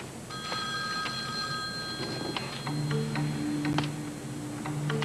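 A telephone rings in a 1988 As The World Turns scene, its repeated electronic tones clear over a steady background hum, with faint ticking beneath.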